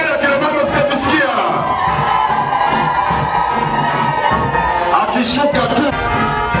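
Women ululate at a political rally in Iringa, a high trilling cry rising above a cheering, shouting crowd, loud and close, with voices calling out amid the noise.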